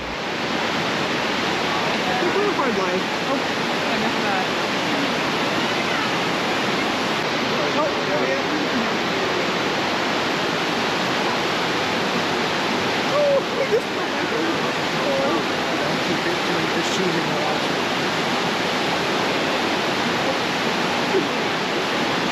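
Steady, dense rush of water cascading down a salmon fish ladder, loud and continuous throughout with no pauses, like a close waterfall.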